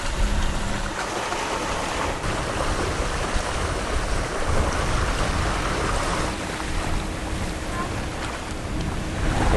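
A sailboat cuts through waves on the Sea of Cortez, with a steady rush of water along the hull and gusting wind noise on the microphone, continuous and fairly loud throughout.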